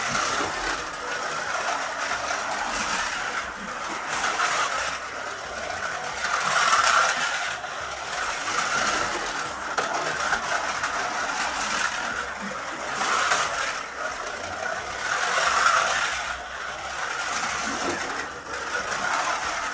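A Scalextric Ford Anglia 105e Broadspeed slot car running laps on a track, a steady whirring motor hum that swells and fades in a regular rhythm as the car passes close and moves away.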